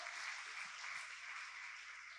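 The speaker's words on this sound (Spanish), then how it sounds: "¿Cuántos le dan un fuerte aplauso al Señor?" A church congregation at a family service claps together in a steady, even wash of applause that stays fairly soft and distant from start to finish, with no speech over it.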